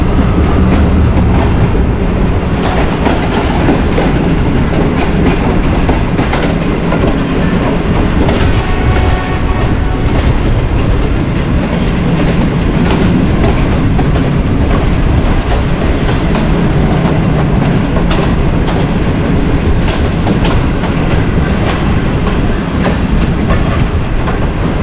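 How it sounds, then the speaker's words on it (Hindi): The Awam Express pulls out of Rewand station, a loud, continuous rumble of rolling wagons with rhythmic clickety-clack close by, sustained throughout. "अब अवाम एक्सप्रेस जो है वो रेवंड से निकल रही"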